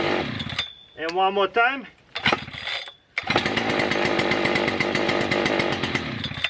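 Husqvarna 3120xp chainsaw pulled and started, a few quick cord pulls and sputters before the engine catches and runs at a loud, steady idle close by; someone speaks briefly before it fires.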